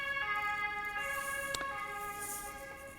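A siren wails steadily with layered, sustained tones, held at a fairly even level over a faint background hum, with no talking.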